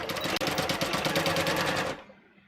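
A sewing machine stitches fabric for a holiday-themed dress in a short, steady burst of rapid mechanical chatter about two seconds long, stopping abruptly into near silence.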